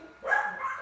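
A single short dog bark or yip sounds indoors, fairly faint and brief, cutting in sharply and trailing off within a second.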